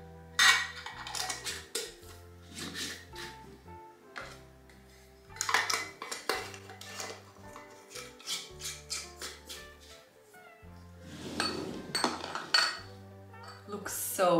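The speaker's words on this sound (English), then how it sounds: "So I'm just going to put the lids on, and this can go to storage." Metal lids clinking and being twisted onto glass jars of freshly harvested honey, a steady series of close, bright clinks and scrapes, with soft background music underneath.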